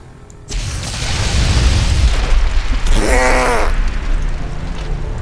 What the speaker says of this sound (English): I guess I underestimated how big the explosion was going to be.